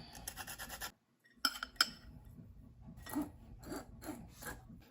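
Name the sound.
sifting flour for tropical cake batter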